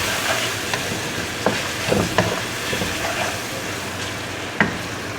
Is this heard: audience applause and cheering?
no